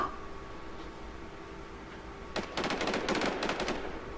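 Gunfire in the video game Zylfelia: Infestation: after about two seconds of quiet background hum, loud rapid bursts of shots ring out close by and continue in clustered volleys to the end.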